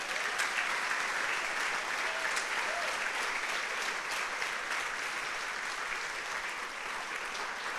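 A church congregation applauding during a sermon, a dense, even roar of many hands clapping that holds steady for several seconds without pause, loud and enveloping.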